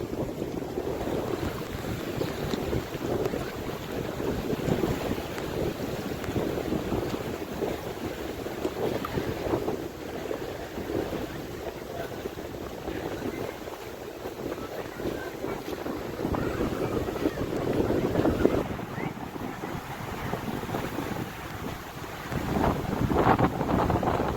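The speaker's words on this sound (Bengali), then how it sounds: "নদীতে তুফান হচ্ছে দেখুন, সাদা ফেনা এদিকে চলে আসছে হাওয়াতে" Strong wind roars and buffets the microphone over choppy waves slapping on open river water in the Sundarbans, white foam blowing in, a steady rushing surge throughout.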